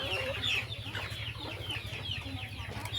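Chickens cluck repeatedly at a farm in Duero, Bohol, with a steady stream of close, overlapping calls over a low, constant background hum.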